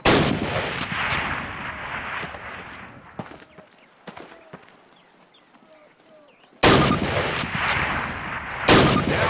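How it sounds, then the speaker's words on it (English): Springfield rifle shots from a Call of Duty training course on PC, a few sharp loud cracks spaced irregularly against a busy game background, with a quieter stretch in the middle before the noise returns. "fire 2 rounds at your target while aiming down your sight"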